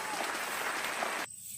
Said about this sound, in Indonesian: Kita beri tepuk tangan untuk temannya.